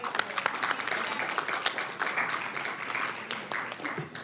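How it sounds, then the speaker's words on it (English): Audience applause at a city council meeting for a soccer community member in Sacramento, a steady mid-distance round of clapping from many hands lasting several seconds with no talk over it. "So, big round of applause to Beth, everyone."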